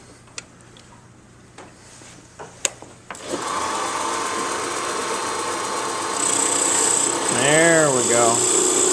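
A wood lathe spins a Christmas ornament blank while a skew chisel cuts, giving a steady whirring hum with scraping tool contact. A few sharp ticks come before the machine starts, and voices are heard over it.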